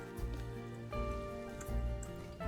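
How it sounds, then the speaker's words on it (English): Rain falling in the zoo-building video game Planet Zoo, a soft pattering wash laid over steady tonal game music, fairly quiet throughout. "Oh, is it raining now?"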